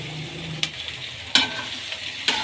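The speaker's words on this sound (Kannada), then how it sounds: "ಸ್ವಲ್ಪ ಶಾಲೋ ಫ್ರೈ ಆಗಲಿ ಸಾಕು" Desi-style penne pasta with onion, curry leaves and capsicum is stirred and shallow-fried in a pan: a soft, continuous sizzle broken by three sharp spoon scrapes.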